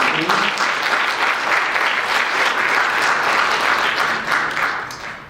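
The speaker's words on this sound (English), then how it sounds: "let's give contestant 8 a round of applause" A school spelling bee audience applauding a contestant, a dense round of clapping that holds steady for several seconds before thinning and fading out at the end.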